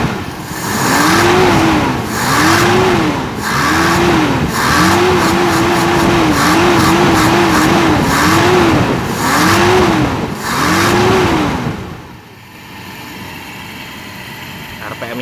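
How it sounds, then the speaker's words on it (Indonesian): Toyota 5K engine running close up during a carburetor tune-up, revving in repeated rising and falling swells for about twelve seconds before dropping back to a quieter, steady idle. "suara karburatornya pokoknya seminimal mungkin nih, denger nggak?"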